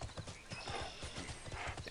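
Steady clip-clop of a horse mount's hooves in the online game TERA, a fast even rhythm of close hoofbeats with a brief whinny-like tone mixed into the busy game sound.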